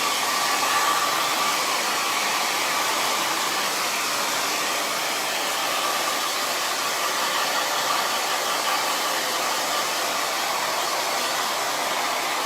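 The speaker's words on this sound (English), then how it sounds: "when I'm blow drying my hair, the first thing I'm going to do is I'm going to make sure I blow dry my roots" A hair dryer on its highest heat setting, drying the roots of hair, blows a loud, continuous whooshing whir close by with no breaks and no speech.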